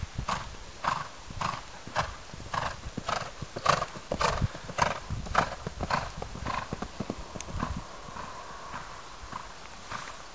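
A horse's hooves clip-clop in a steady, even rhythm on a show jumping course, loud and close, fading gradually toward the end with a faint whinny mixed in.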